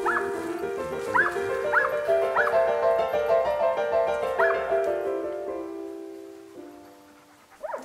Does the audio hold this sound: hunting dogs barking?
yes